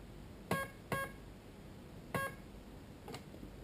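Electronic beeps from an airsoft gun's MOSFET burst controller, four short high tones, a pair followed by a single and another single, faint against quiet room noise.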